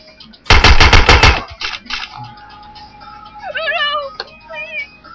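Burst of rapid gunfire from a weapon in the stealth game Hitman: Blood Money, a loud fast volley of about ten shots, followed by quieter game sounds and brief electronic tones.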